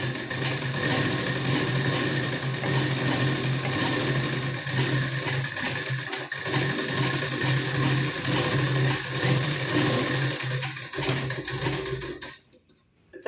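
An electric sewing machine stitches a katori blouse with a steady, fairly loud whirring drone that runs for about twelve seconds and then cuts off sharply.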